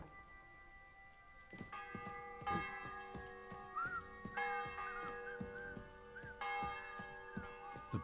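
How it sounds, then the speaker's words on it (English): Church bells peal in Kingdom Come Deliverance II, a steady run of bright rhythmic strokes with ringing overtones that builds in density and stays loud and clear, with no voices over it. "The bell's ringing for Hans the 5th time."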